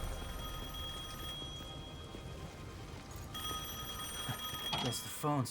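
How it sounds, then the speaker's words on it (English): A telephone rings in the Devil May Cry 5 video game, its bright trilling bursts rising near the end over a steady, noisy background of game ambience. "Guess the phone still works."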